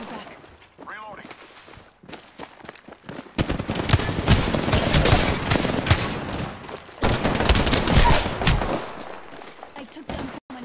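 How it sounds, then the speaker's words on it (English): Sustained automatic gunfire in a first-person shooter video game comes in two long loud bursts separated by a short lull, with scattered single shots before them and voice callouts mixed in. "Opening fire on the enemy."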